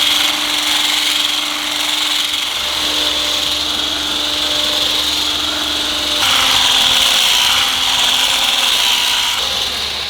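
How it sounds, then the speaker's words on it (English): Flour being whisked into chocolate chip cookie batter in a bowl: a steady, close scraping and rubbing sound that continues for the whole stretch over a faint background hum. "it's time to whisk this now into the mix."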